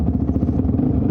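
A Honda CRF450 dirt bike engine runs close up in a steady, loud, throbbing idle with a fast regular pulse and mechanical clatter, unbroken for about a second.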